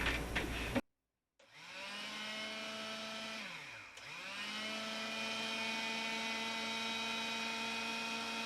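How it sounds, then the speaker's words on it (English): A food processor grinds homemade laundry detergent powder, its motor whirring loudly and steadily after a short pause, briefly slowing and dipping in pitch before spinning back up to a sustained high whine. "got the last little bit in the food processor"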